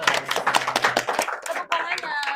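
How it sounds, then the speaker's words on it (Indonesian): A small group at an Indonesian junior high school podcast recording claps together in a quick, sharp burst of overlapping hand claps, close to the microphone, then someone speaks as the applause fades. "tepuk tangannya"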